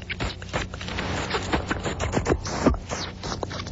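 A man sucking and licking his gums makes wet, smacking, slurping clicks and squelches in an irregular rhythm, close and fairly loud, with no talking.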